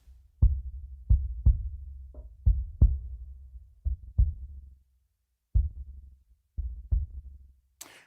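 Deep, boomy hits of a low-tuned kick drum with a slightly flopping head, played alone in an irregular pattern, each with a soft thump and short low decay, separated by silence.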